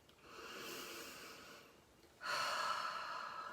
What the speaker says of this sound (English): I want you to take another deep breath.